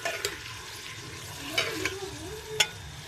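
Chicken pieces frying in a pan for chicken and potato shorba, stirred with several scraping clinks over a steady soft sizzle, close by with no talking.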